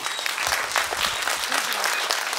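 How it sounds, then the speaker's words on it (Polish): Audience at a violin carol concert by music school students in Lublin applauding, a dense, continuous wash of many hands clapping with some crowd voices mixed in underneath. "pani profesor Katarzyny Kostrzewy, wielkie brawa."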